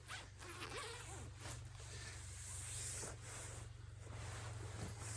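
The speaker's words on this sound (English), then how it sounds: "you can bring your bug net over the top and zip it down from both ends" A hammock bug net's zipper is pulled closed, giving a series of quick, close ratcheting rasps in a quiet outdoor setting, with no talking.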